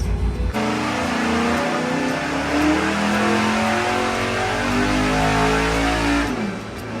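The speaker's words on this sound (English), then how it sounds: "help Bob make a couple dyno pulls on Tommy's brand new 415 small block Chevy for his S10" A brand new 415 cubic inch small block Chevy V8 built for an S10 roars through a dyno pull, loud and sustained with rising revs, then cuts off abruptly near the end.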